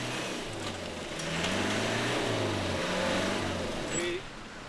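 A Land Rover Discovery is driven hard during the 1995 Camel Trophy in the Mundo Maya region, its engine droning and rising in pitch as it accelerates, loud and close, with some faint background noise.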